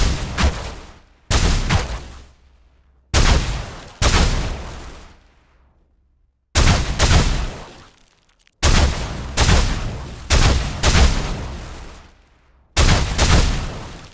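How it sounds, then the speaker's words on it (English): Layered electric sci-fi weapon shots fire in a series of loud, sharp bursts, each with a crackling sparkly onset, a heavy impact and a deep thump, separated by short gaps of silence and sometimes long decaying tails. "Our electric weapon sounds quite nicely. It has that captivating sparkle from the onset layer, the powerful impact from the body layer, the deep thump from the thump layer"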